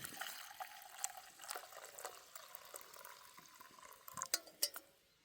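Water splashes and trickles into an antique pot for bush coffee in short uneven pours, close and fairly quiet, with a few brighter drips near the end.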